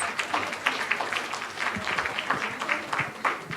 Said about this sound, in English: please join me in giving our moderator and panelists another round of applause